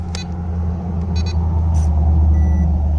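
A WPL C24 RC Jeep truck with a tube chassis and four-wheel steering runs its small motor in a steady low hum, punctuated by a few short high electronic beeps near the start.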